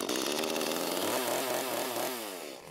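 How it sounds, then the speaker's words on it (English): A chainsaw carving wood buzzes up close, its pitch dipping and rising repeatedly as it bites into the wood, then fading slightly at the end. "Can you hear the creativity in that chainsaw?"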